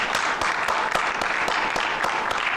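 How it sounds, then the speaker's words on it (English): An audience at an ILAC 2018 conference session claps to thank the interpreters, with steady, evenly spaced clapping at a moderate level over a light crowd murmur. "Can we give them a clap,"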